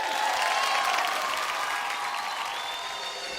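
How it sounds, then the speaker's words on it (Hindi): An audience at a fair talent-show stage claps steadily to welcome the first performer: a dense, continuous wash of applause that holds for several seconds at a constant level, with a faint crowd murmur underneath. "जोरदार ताली से स्वागत करते हैं आज के पहले परफॉर्मर।"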